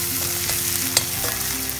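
Chopped garlic sautéing with onions in a pan for a Karaikudi-style broccoli gravy gives a steady, close sizzle, with a few soft clicks and scrapes from stirring.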